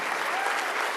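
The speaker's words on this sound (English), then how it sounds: "How about another round of applause?" A crowd at a law enforcement officer awards ceremony claps in steady, dense applause, close and even throughout the short moment.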